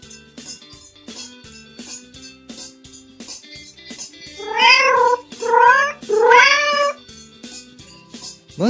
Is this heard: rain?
no